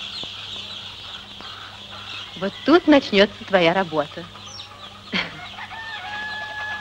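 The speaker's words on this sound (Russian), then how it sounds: "Тут 500 цыплят." Chickens in a henhouse cluck and squawk in a short burst, close and lively, breaking over a low steady hum, with a voice speaking before the birds.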